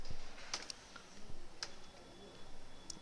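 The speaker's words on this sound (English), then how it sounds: "from the keyboard I am pressing Ctrl Z." Computer keyboard keys are pressed for a Ctrl Z shortcut while programming in C, giving a few sparse, crisp clicks over a quiet background.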